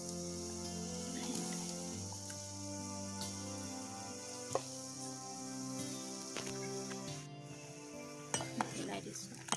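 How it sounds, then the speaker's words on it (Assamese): Leftover fish head, body and tail pieces go into simmering outenga (elephant apple) curry and are stirred, giving a steady low bubbling bed broken by scattered utensil clinks and a few sharp scrapes near the end. "এতিয়া মই ঢালি দিম এইটো মাছ"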